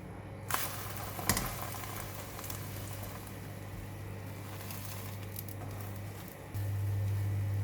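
A single egg fries in a pan as an omelette, giving a steady close sizzle and patter throughout with a couple of brief sharp crackles near the start.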